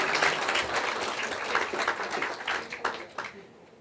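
A crowd of students applauds at an event, producing a dense burst of clapping that stays steady and moderately loud for a few seconds, then thins and fades.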